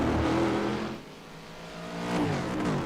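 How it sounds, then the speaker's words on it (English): Race car engines, including Ford Mustangs, Renault Clios and a Toyota, drone at Mount Panorama. The loud engine whine fades, then swells again as the cars approach. "I can hear the sounds of other cars ahead of you guys"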